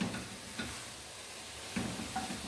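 Chopped carrots, onions and garlic softening in a pan, giving a soft, steady sizzle with a couple of faint stirring scrapes.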